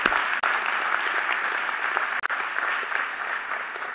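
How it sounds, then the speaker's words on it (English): Sustained applause from a crowd at a university presidential installation ceremony, dense and steady for the full span with a couple of brief dips, no voices above it. "So please give him a round of applause."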